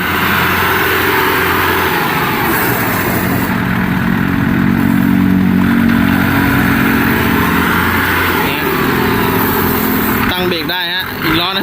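Engine and rear gearbox of a used Kubota L1-265 four-wheel-drive tractor run steadily and loudly up close, a constant mechanical drone with a brief clatter near the end, while someone talks over it.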